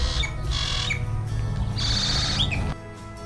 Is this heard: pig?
no